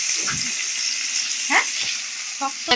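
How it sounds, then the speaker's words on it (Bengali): Onions frying in oil, a steady close sizzle with a few short clinks and scraping stir sounds scattered over it, no clear talking. "এদিকে আমার মা পেঁয়াজগুলো ভাজছে"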